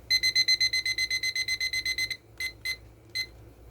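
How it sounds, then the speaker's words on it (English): A kitchen timer is set while taco fixings rest. It gives a fast run of about fifteen sharp, high beeps, then a few separate beeps spaced apart, close and loud with no voices. "Get my timer out"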